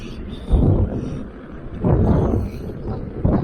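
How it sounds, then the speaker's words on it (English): Strong wind blowing on the Blackpool seafront, buffeting the microphone in heavy rumbling gusts that surge and fade in three bursts, close and loud. "That wind is noisy."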